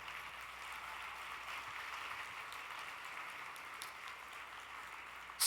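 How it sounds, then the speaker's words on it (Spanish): Faint applause rises from a church congregation during a sermon. It is a soft, distant, continuous patter with no clear individual claps, heard without any talking. "Dale un aplauso al Señor."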